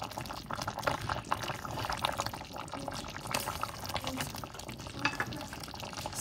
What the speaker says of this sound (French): il me suffit simplement avec la cuillère en bois de soulever tout comme ça